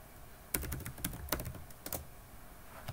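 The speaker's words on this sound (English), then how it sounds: "type in sudo apt remove and the name of the application" Keys clatter on a computer keyboard as a terminal command is typed in Ubuntu 20.04, a short burst of close, irregular clicks followed by a few more taps.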